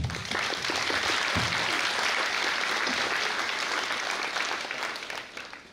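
A graduation audience gives a sustained round of loud, dense applause that holds evenly and tapers off near the end.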